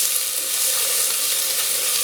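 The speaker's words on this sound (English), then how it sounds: "I love that sizzling sound." Peppers sizzle and crackle in hot olive oil, a steady bright hiss with fine popping throughout and no voices.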